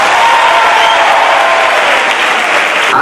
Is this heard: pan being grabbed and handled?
no